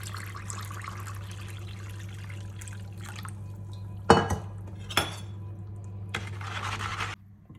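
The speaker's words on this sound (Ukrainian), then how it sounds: "Змішаю 100 г соди, 50 г клею" Utensils clink against dishes with a few sharp knocks while soda ash, silicate glue and water are stirred together, liquid trickling, close by, with no talking.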